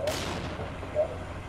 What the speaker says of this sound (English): Throwing out flashbangs.